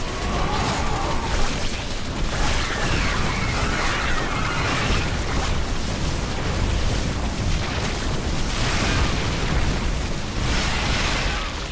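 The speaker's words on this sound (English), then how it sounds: "There is a Zerg hive cluster near your warriors. If possible, we should destroy it." Repeated explosions and blasts as Protoss warriors destroy a Zerg hive cluster in the StarCraft II: Legacy of the Void campaign, a loud, continuous barrage of booms and bursts filling the whole stretch.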